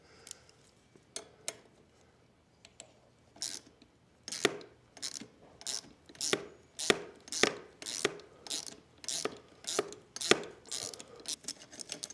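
A hand ratchet works the bolts on a Firman 2000 tri-fuel generator, tightening and loosening them in a rapid series of close, sharp clicks that build into a steady rhythm after a few sparse ones.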